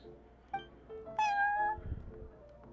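Prince, a cat in the game Genshin Impact, gives a couple of clear, close meows, one short and one longer rising call, followed by a soft rustle.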